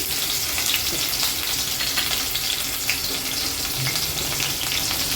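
Green chillies frying in oil in a kadai alongside mustard seeds and cumin, giving a dense, steady hiss of sizzling that stays close and even throughout.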